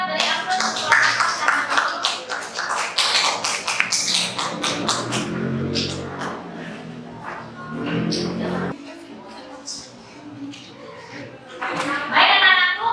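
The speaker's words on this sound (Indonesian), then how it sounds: "Kita beri aplaus untuk kelompok 4." A class of schoolchildren applauds group 4 in a classroom, a burst of scattered hand clapping mixed with children's chatter that fades, then a short final flurry of claps near the end.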